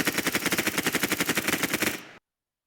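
An MP5K submachine gun fires in the Roblox game Anomic, producing one loud, rapid automatic burst of about twenty evenly spaced shots over two seconds before cutting to silence.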